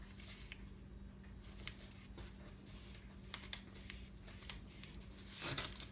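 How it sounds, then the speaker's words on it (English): Paper being folded and pressed into a crease, with faint, close rustles and soft scraping strokes, a few small taps, and a brief louder crinkle near the end, against a quiet hum. "this folded edge right here, I want to fold that now into the center line"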